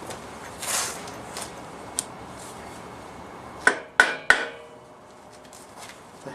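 A Porsche 911 engine housing on an RS backdate build is tapped down onto dowel pins: three sharp, close knocks in quick succession after a quiet stretch of faint workshop noise.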